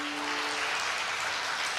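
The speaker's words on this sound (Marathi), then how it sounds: "एकदा टाळ्या वाजवा ना जोरदार" An audience at a devotional kirtan claps loudly and steadily in a dense wash of applause, with no speech over it.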